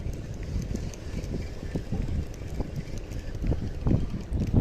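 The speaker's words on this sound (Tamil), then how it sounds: "பார்த்தீங்கன்னா செம்மையாக காற்றடிக்க ஆரம்பிச்சிருச்சு" Strong wind gusting across a fishing jetty at Kasimedu in Chennai, a steady low roaring rumble with buffeting bursts, loud and close like wind on a microphone, with no one speaking.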